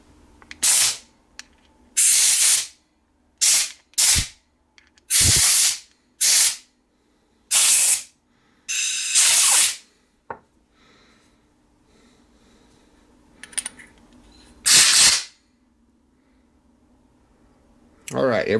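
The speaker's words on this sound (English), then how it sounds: "Get my air compressor." Compressed air from an air compressor nozzle blows in repeated loud hissing bursts of a second or two each, drying a wet Wowtac W1 flashlight and its battery, with quiet gaps and faint handling between blasts.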